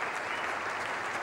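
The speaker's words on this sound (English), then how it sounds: "Generous applause here from this Gabba crowd" A Gabba cricket crowd claps generously for Mark Taylor's square cut in a 1997 match against Queensland, a dense, even patter of distant applause with no break and no voices.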